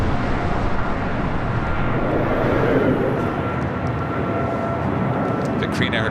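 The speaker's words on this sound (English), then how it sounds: "The Korean Air Cargo 777 freighter taking off on the south side, 25 left." A Korean Air Cargo Boeing 777 freighter takes off from runway 25 left on the south side of LAX, a steady, loud broadband jet roar that holds evenly throughout, with a faint voice underneath.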